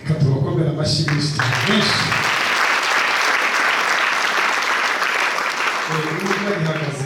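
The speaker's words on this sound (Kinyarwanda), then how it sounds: "Reka tubakomere amashyi menshi." A church congregation breaks into loud, sustained applause that fills the room for several seconds, with a voice heard briefly before it starts and again as it fades.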